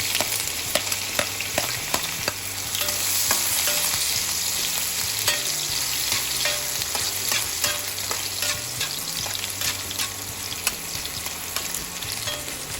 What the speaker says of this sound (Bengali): প্রথমে আমি আদা কুচিগুলো দিয়ে দেবো তেলের উপর